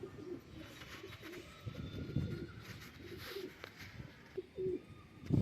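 Soft coos from a nesting pigeon with young repeat at intervals against a quiet background, with occasional faint chirps and a slight rustle.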